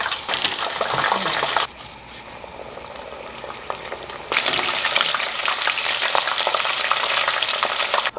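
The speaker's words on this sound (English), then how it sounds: "Once your oil gets to 375 degrees, we're going to add in our coated chicken" Coated chicken pieces fry in oil heated to 375 degrees, a steady, loud broadband sizzle and crackle that dips briefly, then surges back louder as more chicken goes into the pot, with no talking.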